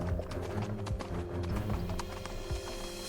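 Hooves of Badal, a sensei's animated horse, clip-clop at a steady walking pace through a sleeping village at night, close and continuous with a faint whinny and no voices.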